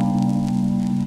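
Reason Grain synthesizer playing a sample in forward loop mode: a steady, sustained tone with stacked low harmonics and faint airy texture, held evenly at close range without a break.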